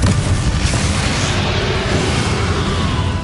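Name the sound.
Confringo explosion spell in the Hogwarts Legacy video game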